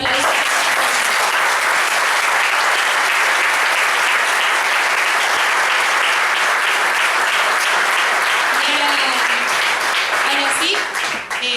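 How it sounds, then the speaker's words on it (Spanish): A large audience at a political event in Buenos Aires claps and cheers in sustained, loud applause that fills the whole stretch and tapers only at the very end. "así que por favor un aplauso"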